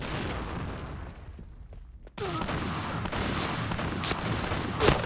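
Shotgun blasts in the video game Crackdown fire at point-blank range, a loud booming shot after a brief lull, followed by dense layered gunfire and explosions with a sharp peak near the end.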